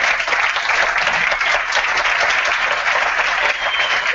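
A studio audience at a televised magic contest claps loudly and continuously for a contestant, a dense, even burst of applause that lasts the whole moment.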